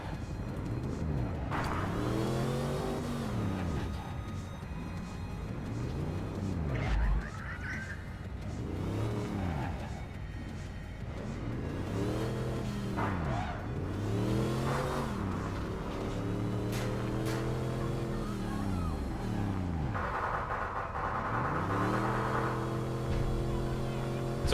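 Engine of a vehicle in a space video game, revving in repeated rising and falling sweeps, loud and close, with skidding and passing noises across a busy game mix.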